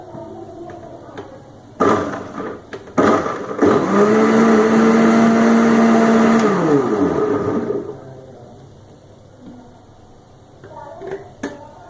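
A kitchen blender whirs loudly for a few seconds, blending a chiku and dates milkshake with a steady, rising motor hum before winding down. Short bursts of handling noise and voices come before and after it.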